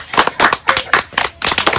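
Close, lively applause from a small group, a dense patter of hand claps in quick uneven bursts with brief gaps, loud and alone.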